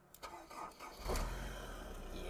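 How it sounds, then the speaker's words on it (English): A Honda S2000 sports car engine cranks by key and catches, then settles into a steady, fairly loud rumble close by. "You start the S2000 by putting the key in, and then you twist it"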